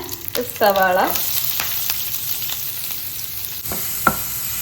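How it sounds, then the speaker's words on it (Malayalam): Cumin seeds and curry leaves hit hot coconut oil, giving a steady close sizzle and crackle with a few clinks and scrapes of a utensil in the pan. "ഞാൻ ദാ വെളിച്ചെണ്ണയിലേക്ക് കുറച്ച് ജീരകം ഇട്ടു, അതിലേക്ക് ദാ കറിവേപ്പില ഇട്ട് കൊടുത്തു"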